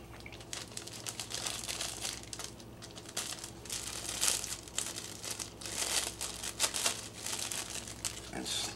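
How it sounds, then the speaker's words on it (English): Close, busy crinkling of a plastic bag of Skittles as it is opened and handled, irregular rustles and crackles running throughout, with faint background noise. "open your bag"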